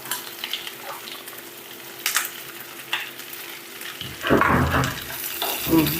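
Sliced onions frying in hot oil in a pan, a steady close sizzle with scraping stir strokes that grow louder and busier toward the end, no talk.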